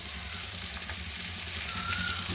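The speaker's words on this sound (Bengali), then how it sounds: "এবার জল ঢেলে দেবো।" Cauliflower and potatoes frying for a fish curry hiss steadily as water is poured in, a continuous close sizzle that swells slightly toward the end.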